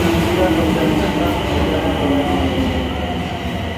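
Osaka Metro subway train on the Tanimachi line arriving at a station toward Yaominami, a steady loud rumble of wheels and motors filling the platform throughout.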